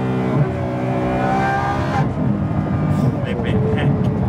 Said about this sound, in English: That is one of the best sounding engines and exhaust systems I've ever experienced.